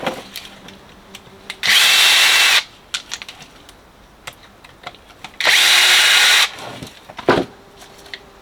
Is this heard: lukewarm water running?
no